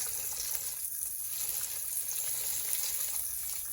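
Liver and onions fry in a pan with a steady, hissing sizzle that stays even and unbroken throughout.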